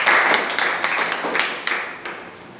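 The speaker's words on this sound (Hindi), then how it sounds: "ताली बजाओ।" An audience at a Modicare business talk breaks into applause, a burst of dense clapping that is loud at first and then thins and fades over a couple of seconds.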